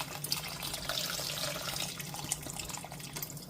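Chicken stock from a 900 ml container pouring into a soup pot on the stove, a steady close liquid splash and gurgle lasting a few seconds with no talking.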